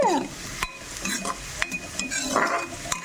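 Potatoes sizzle in a pan on low heat, with a steady frying hiss broken by the clinks and scrapes of stirring. Close and moderately loud, with no talking.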